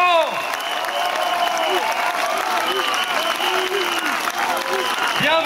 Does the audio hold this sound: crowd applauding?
yes